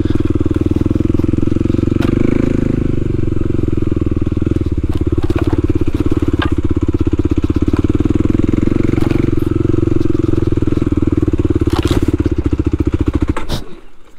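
A Kawasaki KLX300 dual sport motorcycle rides on a trail, its engine a loud, close, continuous drone with rough clattering pulses, then cutting out abruptly at the end as it stalls on a hill.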